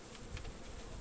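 Honey bees working on wax foundation in a young nucleus colony make a close, steady, dense buzzing hum for a brief moment, with no voices.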